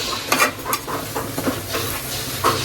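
A large batch of onions, around five kilos, roasting and being stirred in a pan at an outdoor jungle party cookout, with steady sizzling broken by repeated scraping stir strokes and clinks of the utensil against the pan.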